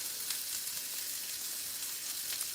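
Buns toast one at a time in melted butter in a skillet, giving a steady, even sizzle that stays close and continuous with no voices over it.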